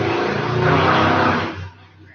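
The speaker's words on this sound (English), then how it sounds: "Sorry, loud motorcycle." A loud motorcycle passes close by with a roaring engine that holds steady, then quickly fades away, leaving quiet background.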